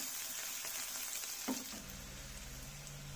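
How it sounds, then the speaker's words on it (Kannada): Chopped onions fry in oil in a pan, giving a faint, steady sizzle with a brief stir or clink midway and a low hum appearing toward the end. "ಒಂದು ಈರುಳ್ಳಿ ಸ್ವಲ್ಪ ಬ್ರೌನ್ ಆಗೋ ತನಕ ಚೆನ್ನಾಗಿ ಫ್ರೈ ಮಾಡಬೇಕು."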